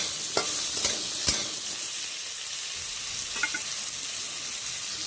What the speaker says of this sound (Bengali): একটু আলুর মধ্যে আমি লবণ আঁচ করলাম ভালো করে ভেজে নেব আলুটা